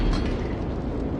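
A tank cannon firing in World of Tanks gives one loud, booming shot at the start, then a rumbling decay with some mechanical clatter.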